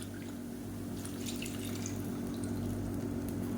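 Soaking water poured into a rice flour and millet mixture, a steady continuous trickle and splash heard up close with faint background hum and no talking.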